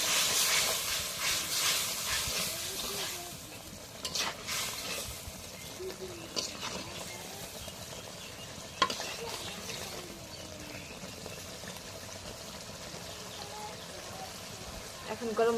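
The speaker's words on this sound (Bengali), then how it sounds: "এখন মশলাগুলো একটু নাড়া দিয়ে দিই।" Spices and salt stirred in a hot cooking pan, a steady steamy hiss with scattered scraping clicks of the spoon, close and moderately loud throughout.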